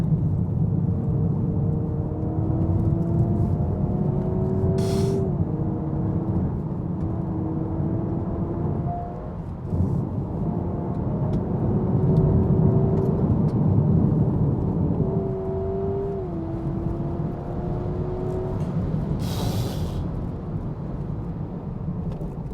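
A Honda Prelude hybrid drives hard around a hilly race circuit, its engine droning steadily with rising and falling tones as it shifts, under constant road and wind roar.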